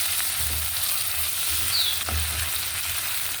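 A small amount of meat fries in a pan with a steady close sizzle, a few soft stirring scrapes and taps now and then under the hiss.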